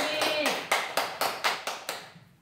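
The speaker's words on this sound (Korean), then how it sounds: "그렇게 해주실 우리 하나님께 영광의 박수를 올려드리겠습니다" Church congregation at a Sunday service claps together in a steady, rhythmic unison beat, about ten sharp claps in a row that fade toward the end, close and fairly loud.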